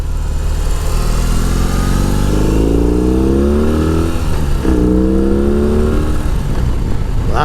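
A motorcycle engine revving up through rising pitch sweeps twice, with a short drop between, over a constant low idle rumble, close and loud.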